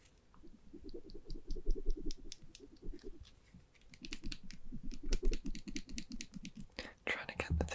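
Close-up ASMR handling of a metal kitchen whisk, with light rattles and taps mixed with soft whispered speech throughout.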